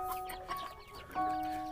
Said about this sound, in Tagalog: So that is a bantam chicken.